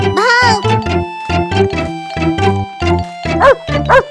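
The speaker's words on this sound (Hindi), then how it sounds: "ये ब्रीटू कुत्ता हमेशा ऐसा ही करता है, खौफजदा कर देता है।" A cartoon dog barks in a rapid run of short, sharp, yappy barks, loud and close, mixed with whimpering yips.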